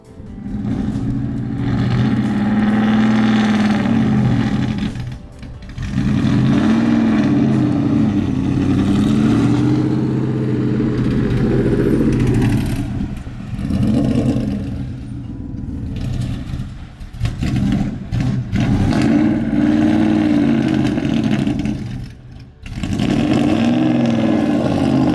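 A 1931 Ford Model A engine, a poorly running car, revs loudly and continuously in a garage, with surging rises and brief dips throughout.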